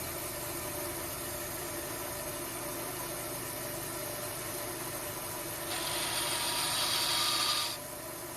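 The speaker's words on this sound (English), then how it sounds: "We're going to saw slowly and carefully." A bandsaw fitted with a 1/4 inch blade hums steadily while cutting a wooden slingshot, and a brighter, hissing cut sound rises for about two seconds near the end before fading back to the motor drone.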